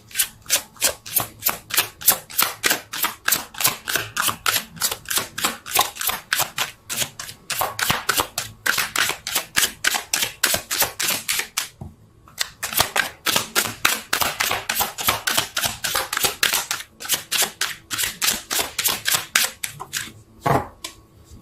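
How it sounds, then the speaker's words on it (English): A deck of tarot cards is riffle-shuffled repeatedly: rapid, crisp rhythmic flutters of cards, close and loud, with brief pauses between bursts. "Let's see if I can shuffle."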